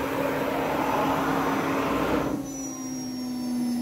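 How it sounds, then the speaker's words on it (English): A PrintNC PRO CNC machine with a tool changer moving its axes back to the homing position, a steady whirring motor drone with a sustained tone that drops abruptly partway through to a quieter hum with faint high whines. "Then it goes back to homing position."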